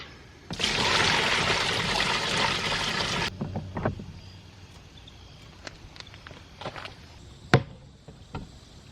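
Water mixed with rust remover powder pours steadily into a container for about three seconds, a dense rushing splash, followed by scattered clinks and small knocks.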